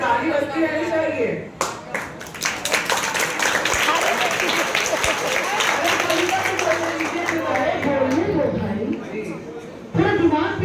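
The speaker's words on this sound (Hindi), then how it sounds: "ताली बजती रहनी चाहिए।" An audience at a Hindi kavi sammelan poetry recital for a student performer claps steadily and densely for several seconds, with crowd chatter and voices mixed in throughout.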